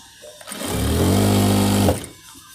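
A sewing machine runs a short burst of stitching, a fast, even motor whir that starts up, holds steady for about a second and a half, then stops.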